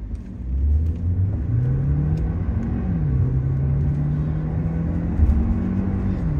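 A 2023 Hyundai Verna 1.5 turbo in sports mode accelerates hard uphill from 0 to 100, its engine droning loud and close and climbing in pitch through several gear changes, with no talking.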